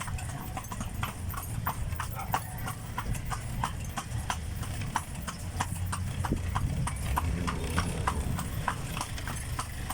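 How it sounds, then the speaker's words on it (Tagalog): A horse named Rocky pulls a kalesa carriage, its hooves clip-clopping in a steady, even trot throughout, close by over a rolling road rumble. "Ito, masarap pala ng sumakay ng kalesa."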